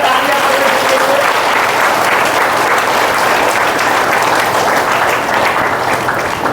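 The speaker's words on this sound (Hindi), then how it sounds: "जोरदार तालियां परमेश्वर के लिए।" A church congregation at a revival meeting breaks into loud, sustained applause, dense clapping filling the room evenly throughout with a faint murmur of voices beneath.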